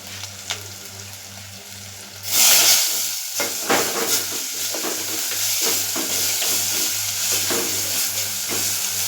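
Asafoetida and turmeric powder sautéing in a pan, a steady sizzle and hiss of frying that rises sharply after a quieter start and continues close and even throughout, with occasional stirring scrapes.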